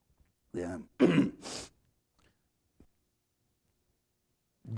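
A short run of gruff, throaty coughs close by, then near silence with a faint tap.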